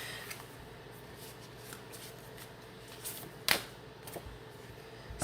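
Oracle cards being shuffled and drawn by hand: soft, papery riffling and flicking, faint and close, with one sharper snap partway through and no talking.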